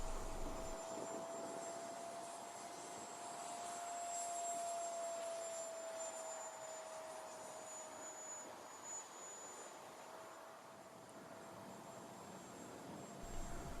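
A steady jet-like whine with a high-pitched tone holds throughout, swelling and easing gently as a small 3D-printed RC model Vulcan bomber passes at moderate distance.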